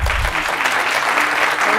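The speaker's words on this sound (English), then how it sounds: "everyone here is thrilled to thank and applaud you" An audience at a university college's 40th anniversary celebration bursts into dense, loud applause, sustained clapping filling the room without a break.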